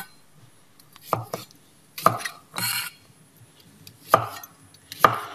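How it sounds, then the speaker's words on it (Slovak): A knife chops carrots into thin slices on a cutting board in a home kitchen, a few separate sharp knocks spaced about a second apart with quiet pauses between them, close and fairly loud. "Ja to nakrájam na takéto tenšie plátky."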